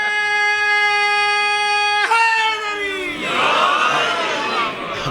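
A crowd at a Shia majlis in an imambargah during Ramzan bursts into loud collective slogan chanting after a sustained tonal sound fades, many voices shouting together, near and full.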